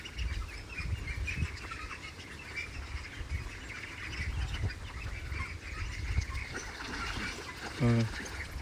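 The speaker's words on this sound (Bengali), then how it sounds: "হাঁস এক এক করে পানিতে লাভার জন্য প্রস্তুতি নিচ্ছে।" Pekin ducks at a farm pond quack and chatter intermittently through a steady outdoor background, with scattered calls and one louder burst near the end.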